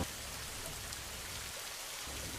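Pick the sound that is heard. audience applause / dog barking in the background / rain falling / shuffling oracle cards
rain falling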